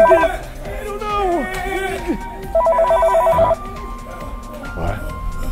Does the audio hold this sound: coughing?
no